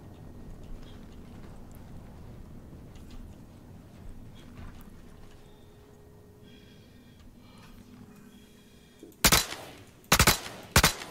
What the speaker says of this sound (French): ça tire à travers les vitres